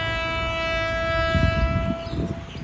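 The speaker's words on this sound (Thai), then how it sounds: "เที่ยวสุดท้ายของ ขบวนรถเร็วที่ 170 ในปี 2565" A Thai rapid train, number 170, on its last run of 2022 passes with its locomotive, giving a loud, steady horn-like drone over rumbling rail noise.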